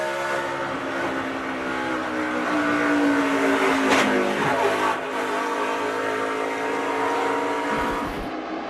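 Onboard audio from a racing truck at a 2011 night race as it slides loose and brushes the wall: a loud, sustained engine drone with shifting revs, a brief harsh scrape and thump midway, no talk.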